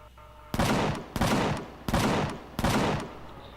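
A cannon turret in the Empyrion space survival game fires four loud booming shots at a steady, evenly spaced rhythm, each blast followed by a short decaying rumble.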